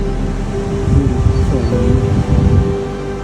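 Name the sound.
river flowing during a mountain trek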